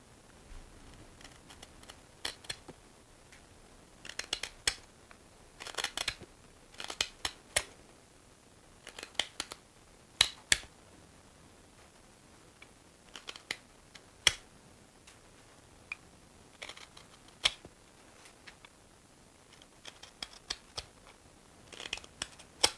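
A freshly sharpened spoon knife cuts shavings from hard beech wood, giving sharp, crisp slicing clicks in irregular clusters, close and fairly quiet, with no talking.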